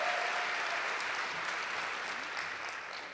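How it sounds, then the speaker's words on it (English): Sustained applause from an audience at a student equity speaker series event, a dense, steady wash of many hands clapping that fades slightly toward the end. "Please give Anahita a warm round of applause for all her efforts."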